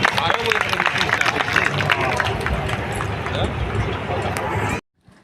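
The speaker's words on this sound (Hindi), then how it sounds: "समस्त करताली देवता के" Audience applause at a gathering: dense, steady clapping from a crowd with a faint murmur of voices, loud throughout, then cutting off abruptly near the end.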